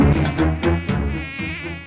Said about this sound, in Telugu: ఛీ, ఛీ, ఛీ, ఈ యాదవ ఈగలు